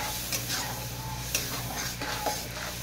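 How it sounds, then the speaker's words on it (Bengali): A spice paste of ginger, garlic, green chili and four melon seeds is fried and stirred in a pan, a dense steady sizzle with soft periodic scrapes and taps of the spoon. "দিয়ে আমি এই মশলাটাকে পুরো কষে নেবো, লালচে লালচে করে একদম কষে নেবো"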